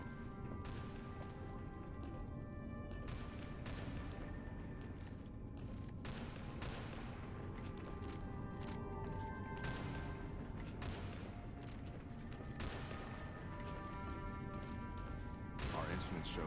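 Gunfire from a firing range in the video game Fallout: New Vegas, a steady series of sharp shots scattered throughout, heard at some distance beneath game music and ambient background sound.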